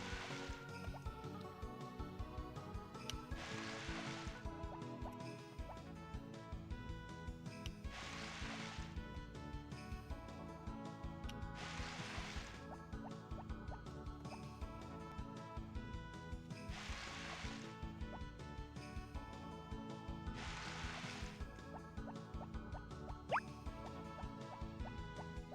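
Watering crops in the farming game Harvest Moon: Back to Nature, with repeated bursts of splashing water from a watering can about every four seconds over steady background music, no voices.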